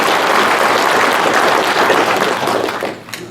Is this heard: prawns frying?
no